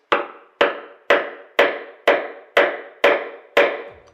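A sharp chisel works wood for a veneered fine-furniture door. Eight crisp, evenly spaced knocks land about every half second, each close, loud and quickly decaying, with no voices.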